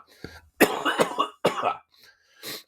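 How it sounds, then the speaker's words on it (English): One person coughs and clears their throat in a short series of separate harsh bursts, close to the mic, with quiet pauses in between. "also still have a cough"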